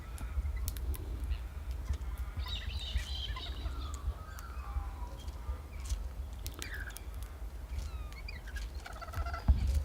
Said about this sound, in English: I've got some of these birds having a quick feed here.